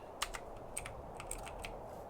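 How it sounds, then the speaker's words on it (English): Someone types one-handed on a computer keyboard: a soft, irregular patter of separate key clicks, close and fairly quiet, with no talking. "Gosh, typing with one hand is so hard."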